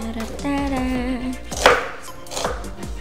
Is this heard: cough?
no